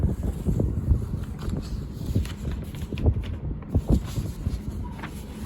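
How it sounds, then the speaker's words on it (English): Strong wind buffets the microphone with continuous low rumbling and irregular thumps throughout. "Sorry, it's a little windy here."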